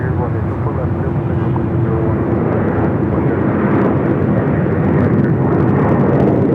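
A heavy jet airliner taking off from runway 24 left at Los Angeles LAX, with a loud, steady engine roar that holds throughout and faint voices underneath.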